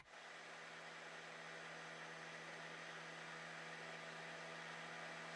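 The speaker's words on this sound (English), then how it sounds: "So this is the microwave." A steady, continuous mechanical hum with a droning tone and broadband whir, constant in level throughout, like a microwave oven running close by.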